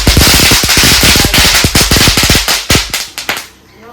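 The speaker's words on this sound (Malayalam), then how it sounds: "പപ്പക്ക് ഭയങ്കര ഇഷ്ടമുള്ള പരിപാടിയാട്ടെ പടക്കം പൊട്ടിക്കല്." A string of firecrackers goes off in rapid succession, loud, close, sharp bangs crowding together before thinning out into a few last pops and quiet.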